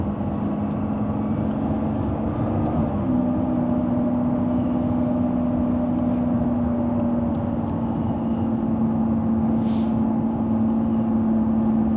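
A 2024 Lamborghini Revuelto in Strada mode runs at a steady low hum with a constant tone, a slight rise in pitch partway through, heard from inside the car without talk.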